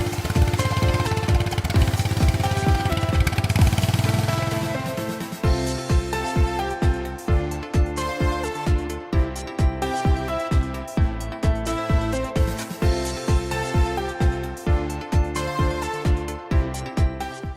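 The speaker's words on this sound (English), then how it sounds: "Combine Harvester." A combine harvester engine runs with a steady, loud, rumbling drone for about five seconds. Rhythmic music then takes over.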